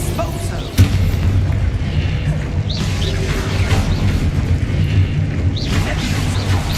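An explosive spell goes off in the Hogwarts Legacy video game, with a sharp boom early followed by rumbling combat noise and whooshing magic effects, under a voice shouting spell incantations.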